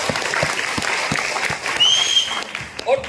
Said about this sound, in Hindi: पर ताली बजा दो